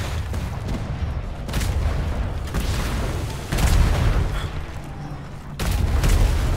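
Ship cannon fire in the pirate-sailing game Atlas: several heavy booming shots, each a broadband blast landing at irregular intervals over a continuous loud battle din, with the later blasts strongest.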